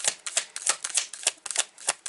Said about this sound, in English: it sounds like she's shuffling.